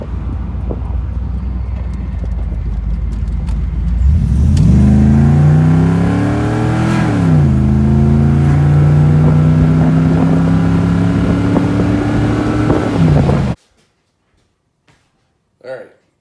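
A 1992 Camaro fitted with Jets two-piece under-drive pulleys revs while driving, the engine pitch climbing, dipping and holding steady loud and close, then cutting off abruptly into near silence with a faint knock.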